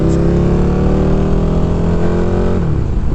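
A motorcycle engine revs loud and close, holding a steady droning pitch before dropping off sharply near the end, with no talking.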